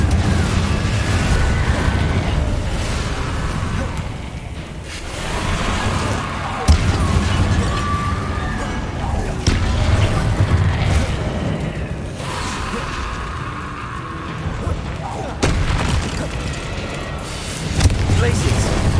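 Confringo fire spells burst repeatedly in Hogwarts Legacy, with several punchy blasts and whooshes spread through a dense, loud wash of combat sound, with voices heard faintly in the mix.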